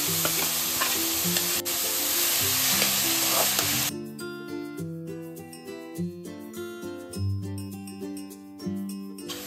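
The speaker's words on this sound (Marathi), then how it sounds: "गूळ आणि आवळ्याचा किस आपल्याला अगदी छान असं परतून घ्यायचं आहे" Grated amla and chopped jaggery being sautéed and stirred in a pan over a medium flame, giving a steady sizzle with stirring scrapes, then a quieter, more tonal stretch with music-like background for the remainder.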